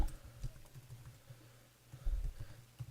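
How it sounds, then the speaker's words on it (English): Quiet patter of typing on a computer keyboard, light irregular key clicks in a short burst, a pause, then another flurry, with no voices. "Let's type in BOGO burgers"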